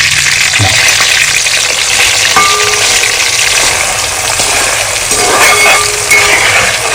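Boiled prawns fry in hot coconut oil for a pickle, giving a loud, steady close-up sizzle with occasional light clinks of a utensil against the pan.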